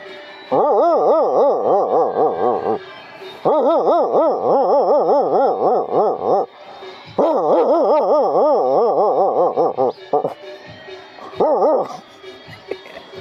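A person imitates a dog howling, giving four long, wavering, mournful howls that rise and fall with short pauses between them, loud and close, followed by a few weaker yips.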